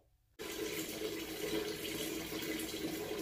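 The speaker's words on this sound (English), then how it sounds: "I'm going to pour this entire gallon of water down inside that water bowl" A full one-gallon jug of water is poured into a reptile's water bowl inside a lizard tank. A sudden, steady rush of splashing water starts after a brief quiet and continues without a break.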